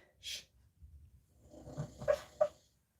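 A sleeping dog makes soft, muffled noises while dreaming: quiet snuffles and low grumbling breaths, then two short muted woof-like yips near the end, close by and faint.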